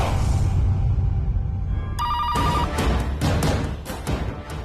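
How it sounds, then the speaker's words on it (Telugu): A telephone rings in a home, starting partway through as a sustained electronic tone with a steady repeating pattern, loud and close, with no voices over it. "ఫోన్ రింగ్ అవుతుంది."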